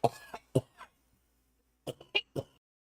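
A person coughing and clearing their throat in a short burst, then a pause and a second quick cluster of coughs, fairly quiet and close.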